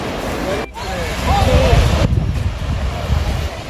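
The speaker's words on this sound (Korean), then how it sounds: "바닷소리 들리시나요? 바닷소리." Sea waves wash against the Jeju Island shore with a rushing roar, mixed with wind buffeting the microphone, while people talk nearby.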